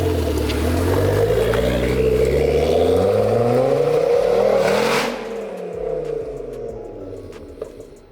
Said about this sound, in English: Did someone ask for a sick burnout?